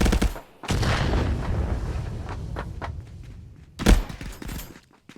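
Gunfire cracks out in the ContractorsVR shooter, a few sharp shots and a loud close burst standing out over faint footsteps and ambient game noise.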